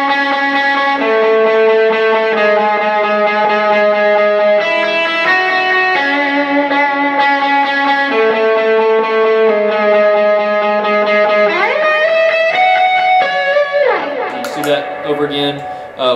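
Electric lead guitar with an octave-up effect plays the melodic lead line of a song, sustained distorted notes in a steady phrase, ending in a sliding, chaotic flourish.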